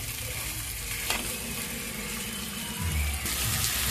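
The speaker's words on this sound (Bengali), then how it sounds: "এবার আমরা দিয়ে দিচ্ছি চিকেন, চিকেন দিয়ে এবার ভালোভাবে নেড়ে নেব।" Chicken pieces sizzle loudly in a hot pan with green chillies while being stirred, a dense close frying hiss with a soft scrape and a swell of sizzling toward the end.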